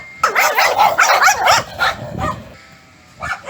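Several small dogs bark and yip in quick, overlapping bursts, loud and close, then fall quiet before one last short bark.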